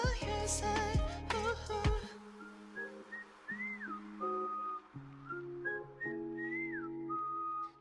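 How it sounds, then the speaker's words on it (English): A man whistles a melodic line at shifting pitches over a backing track with K-pop music, the whistled tune clear and prominent above the accompaniment. "Dude can whistle"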